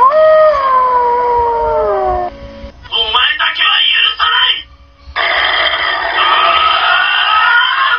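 Super Monster Wolf, a wolf-shaped pest-deterrent robot guarding farm crops, gives out loud wavering howls, then a burst of harsh electronic noises and a sustained siren-like wail, all filling the clip at close range.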